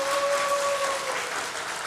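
Audience applause from a church adult Bible school gathering, a steady full burst of clapping from many hands filling the whole short moment, with a faint sustained tone underneath.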